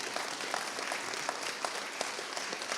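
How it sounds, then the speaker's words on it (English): Scattered applause from an audience at a salon-style panel talk, soft and fairly distant, with a steady wash of clapping and a few sharper claps standing out. "Let's round of applause for Eric and Lyn."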